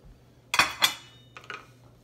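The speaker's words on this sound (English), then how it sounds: "My cheese, just going to add it in and stir it to make sure it melts in there." Metal spoon scraping and clinking against a pot while shredded cheese is stirred into homemade macaroni and cheese at a camp kitchen, with two sharp clanks followed by a few softer scrapes, close and alone.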